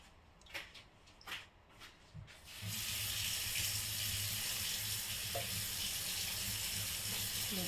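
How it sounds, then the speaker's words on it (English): Pot of pasta cooking water poured into a kitchen sink, a few soft clunks followed by a steady, loud rushing splash of draining water that continues to the end. "Now let's drain the water."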